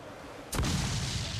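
Cannon fire in a naval video game: a single sudden booming shot cuts through the low ambient rumble, then a thick roaring rumble holds on after it.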